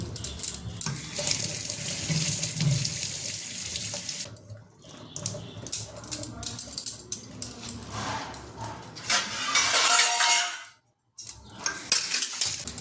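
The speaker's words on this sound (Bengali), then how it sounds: "চলো এটাকে ধুই।" Tap water runs steadily into a sink while a pineapple is washed, with occasional clinks of dishes or cutlery; the stream surges louder near the end, stops briefly, then resumes.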